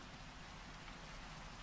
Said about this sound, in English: So I apologize for the rain here.